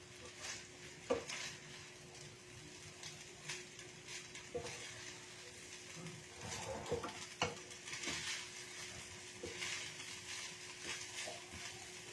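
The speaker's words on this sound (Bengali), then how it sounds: "গ্যাসের ফ্লেম আমি জোরে করে দিয়েছি, একটু ভালোভাবে যাতে পুরো জিনিসটা ভাজা হয়।" Butter garlic paneer fried rice fries over a high gas flame as it is stirred in a pan, giving steady sizzling with scattered utensil scrapes and clinks throughout, close and moderately loud.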